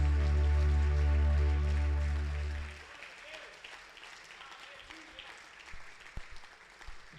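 A held musical chord fades out, then a church congregation applauds in a soft, diffuse patter of clapping, heard somewhat distant and fairly faint.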